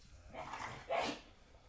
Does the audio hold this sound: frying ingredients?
no